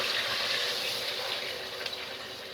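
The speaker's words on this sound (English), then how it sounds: "You put in 1 big scoop of water." A big scoop of water poured into a pot while making Italian rapini and sausage pasta, a steady close rushing splash that tapers slightly over a couple of seconds.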